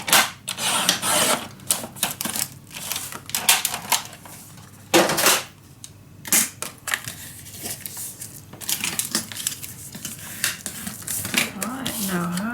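Scrapbook paper being cut on a craft trimmer after scoring, a run of quick, sharp clicking and slicing strokes, fairly close and moderately loud, with a brief murmur of a voice near the end.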